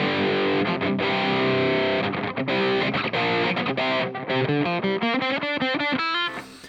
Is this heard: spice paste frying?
no